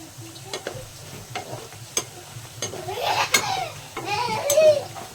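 Namak para dough pieces fry over a low flame in a steady, gentle sizzle, broken by sharp stirring clicks and scrapes, with a voice speaking briefly toward the end.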